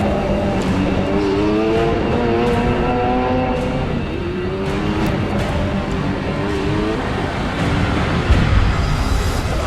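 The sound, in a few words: three cars driving fast down the road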